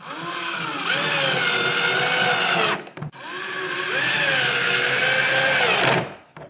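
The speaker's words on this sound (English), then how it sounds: "Now let's put the screws in and then we should be good to go." A power drill drives screws into a kayak rod holder, giving two sustained, close whirring bursts with a brief pause between them and pitch shifts as each screw tightens.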